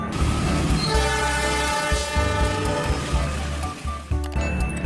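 A toy train sound with a sustained horn blaring over rumbling, rhythmic rolling noise, loud and continuous throughout.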